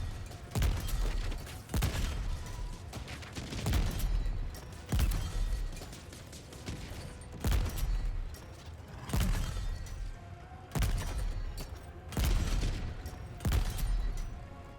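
Repeated explosions and gunfire in Helldivers 2 as automaton turrets blow up, heavy booming bursts recurring every second or two over a constant battlefield rumble, no talk.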